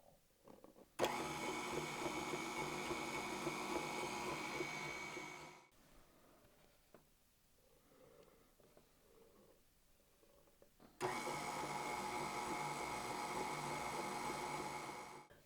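Stand mixer beating flour into sweet potato bundt cake batter: a loud steady motor whir runs for several seconds, stops for a quieter pause, then starts again for a second burst.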